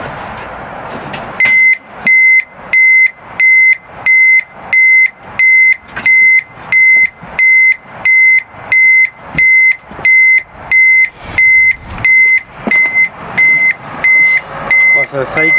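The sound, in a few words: reversing beeper on a vehicle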